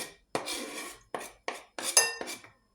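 Ingredients tipped from a container into a dish for stuffed aubergine dolma, heard as a few separate scraping, clinking bursts of utensil against dishware, close and short, with no speech.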